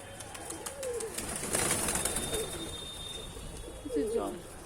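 Pigeons on a rooftop near a bucket of water give short, throaty coos a few times over a soft background of bird chatter and faint rustling.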